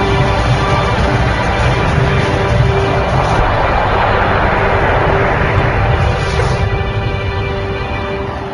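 An Air India airliner takes off from runway 29 at an Indian airport, its jet engines giving a loud, steady broadband roar that fades slightly toward the end.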